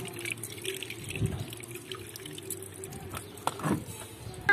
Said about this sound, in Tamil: நான் அரிசி கழுவி எடுக்க போறேன்.